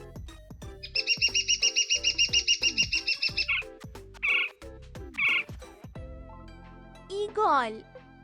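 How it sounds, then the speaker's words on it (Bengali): Woodpecker calls: a fast, evenly spaced run of sharp pulsed notes, then a few separate short calls and a final squawky call, over light rhythmic backing music. "কাঠঠোকরা,"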